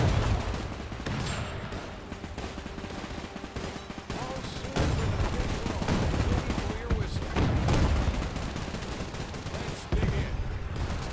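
Sustained gunfire and heavy weapon bursts in a World War II combat battle from Men of War II, with dense overlapping shots and rumbling explosions throughout.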